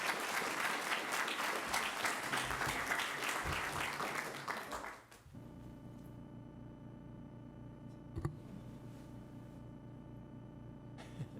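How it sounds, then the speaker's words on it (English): Audience at a school district board meeting applauds all-state athletes: dense, steady clapping for about five seconds, then it stops abruptly, leaving a quiet room hum with a single faint knock. "let's give a big round of applause to all of our all-state athletes."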